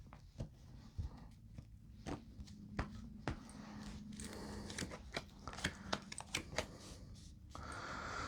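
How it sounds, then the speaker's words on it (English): Tarot cards are shuffled by hand, producing a faint, close run of soft riffling and tapping clicks over a quiet room hiss. "Okay, Shanine, I feel like I need to shuffle these cards extra for you."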